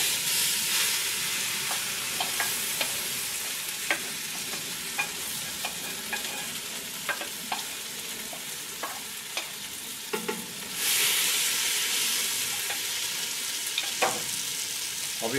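Spice paste and onions for kettle goulash fry and sizzle steadily in a pot, with repeated scraping and stirring knocks and a brief louder hiss of steam near the end, with no talking.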